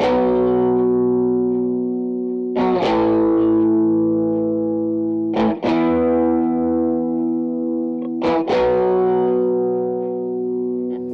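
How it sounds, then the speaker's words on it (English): Distorted electric guitar chords ring out through a Fender Blues Junior tube amp fitted with a Greenback speaker, struck roughly every three seconds and left to sustain with a warm, saturated amp tone. No voices. "Here's how the Blues Junior sounds now."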